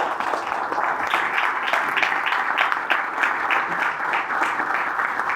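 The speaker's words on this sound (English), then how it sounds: "if you can clap hands for her" An audience claps their hands at a book launch, steady dense applause held at an even level throughout, with no clear voices rising above it.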